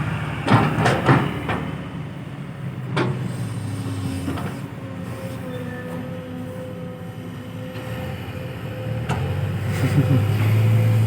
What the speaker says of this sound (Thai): ก็ตอนนี้เป็นสิบล้อนะครับ ผม ไฟเตอร์นะครับ ก็เป็นการถอยเทลงหลุมนะครับ